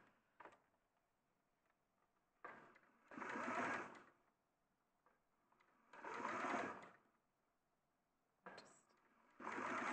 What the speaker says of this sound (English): Sewing along one side.